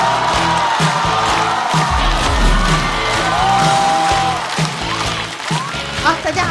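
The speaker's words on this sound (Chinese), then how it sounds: "掌声欢迎福气满满的山河" A stand-up comedy show audience greets a comedian coming on stage: loud, continuous crowd noise with whoops, shouts and cheering, and voices rising through the din.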